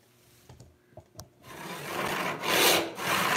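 A hand saw resaws an 8-inch wide walnut board: a few tentative strokes at first, then steady, loud rasping strokes close by, with no talking.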